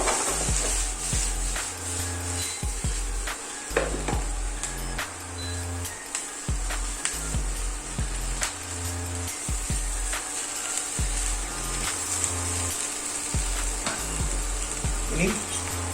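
Capsicum being stir-fried and tossed for Indo-Chinese beef chilli gives a moderate sizzle broken by clicks and scrapes of stirring in the pan, over a low rhythmic background hum.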